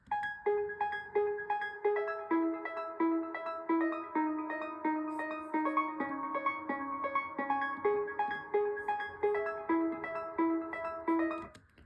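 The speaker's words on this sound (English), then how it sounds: "Okay, now I've got this basic lead melody that sounds like this." A steady synth lead melody of short, evenly spaced notes repeating in a looping phrase, bright and upfront with no voices.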